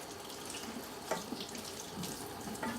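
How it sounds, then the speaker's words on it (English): Tap water runs into a sink as potatoes are washed by hand, a soft steady splashing stream with small clunks and rubbing sounds, quiet and close. "So let me wash my potatoes."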